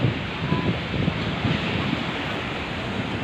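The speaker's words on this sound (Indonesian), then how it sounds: "Cuaca saat ini sedang ombak angin" Strong wind buffeting the microphone over rough sea waves near a harbor pier during overcast, rainy weather, a steady roaring wash with low gusty thumps, no speech.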